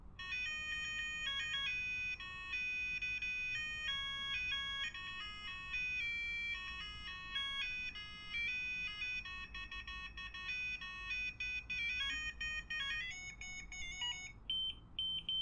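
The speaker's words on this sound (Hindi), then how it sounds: "आपको फिर से अप और डाउन बटन प्रेस करके अलार्म टोन सेट कर लेना है।" A color change digital clock plays its alarm tones, a steady run of bright electronic melodic beeps that keep going for the whole stretch, close and clear with no talking.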